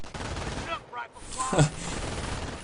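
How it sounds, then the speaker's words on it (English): Machine gun fire in a Company of Heroes-style strategy video game, a continuous crackle of distant bursts layered under a commentator's talk and dense battle noise. "the MG's firing"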